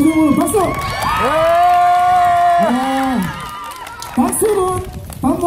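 A crowd of families at a low-carbon family camping event cheers and shouts, with children's voices rising in long whoops over scattered clapping, loud and close, with brief talk at the edges.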